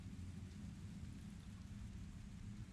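Steady rain with a deep rolling rumble of thunder, a continuous low storm ambience that holds evenly throughout with no voices.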